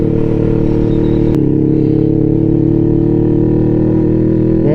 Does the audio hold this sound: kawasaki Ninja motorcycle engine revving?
yes